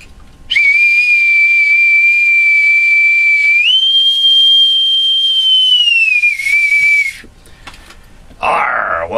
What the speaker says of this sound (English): pipe aboard my illustrious co-host and mentor and the very founder of Newsletter Censored in 1977 with my authentic bosun's whistle